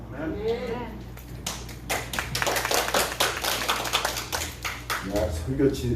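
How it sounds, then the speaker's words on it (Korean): Congregation clapping during a Sunday service at a Korean Baptist church in Hawaii: a dense burst of many hands, moderately near, rising after a spoken opening and fading as a voice resumes. "설교하기 전에 박수하는 경우가 많지 않을 것 같아요"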